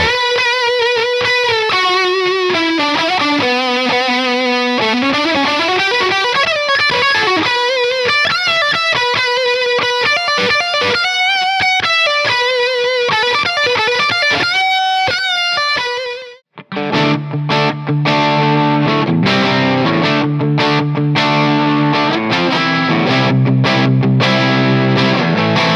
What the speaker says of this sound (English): Let's hear that lead sound.